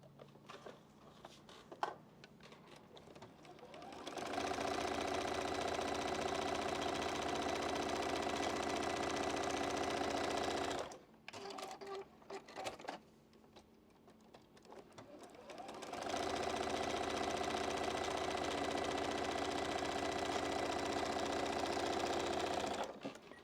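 A sewing machine stitches down two white lines on a beginner's Jacob's Ladder quilt block, running in two long steady bursts with a short quiet pause of handling between them.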